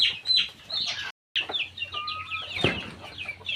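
Chickens cluck and squawk nearby inside a coop in a steady jumble of short calls, with a brief silent gap early on.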